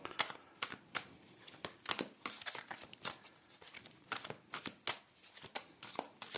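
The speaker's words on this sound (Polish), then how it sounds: "tasuję w ten sposób karty" Tarot cards shuffled by hand, a close run of crisp riffling bursts and flicks in quick irregular rhythm, loud and alone with no talk over them.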